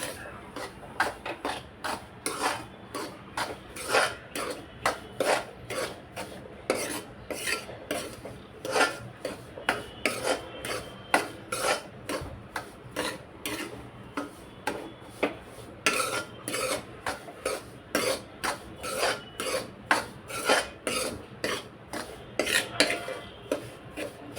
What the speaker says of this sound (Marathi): आता हे मंद गॅसवर अगदी लालसर होईपर्यंत चांगलं भाजून घ्यायचं।